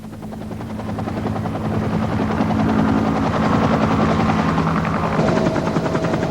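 A helicopter flies over dense, remote jungle, its rotor chopping loud and close in a constant rapid throb that swells slightly and holds steady throughout.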